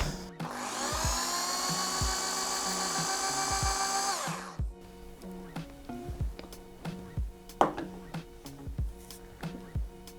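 An electric drill bores into a thrifted IKEA photo frame on a tabletop, a loud, steady high whine lasting about four seconds before it stops, followed by scattered knocks and handling clatter.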